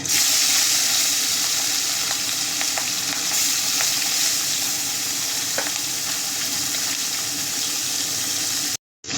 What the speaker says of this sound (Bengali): তেল গরম হয়ে গেছে, মাছগুলো আগে ভেজে নেব।